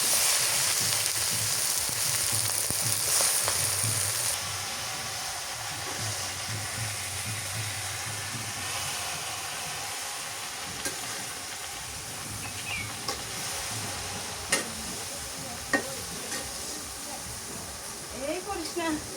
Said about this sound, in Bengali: লাল লাল করে ভাজলাম এবার শাক দিয়ে দিই